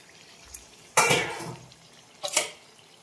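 A metal lid comes off a pot of mutton simmering for biriyani, giving two sharp clanks about a second apart with a faint sizzle between them.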